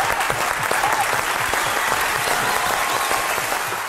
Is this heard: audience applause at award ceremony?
yes